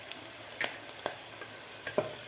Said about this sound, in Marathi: मिरचीसुद्धा आपल्याला व्यवस्थित फ्राय करायची आहे